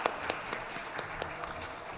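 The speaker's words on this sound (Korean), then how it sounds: "박수로 축복해 주시길 바라겠습니다." A church congregation at a Sunday service claps together in a steady, fairly faint round of applause with an even rhythm. No one speaks over it.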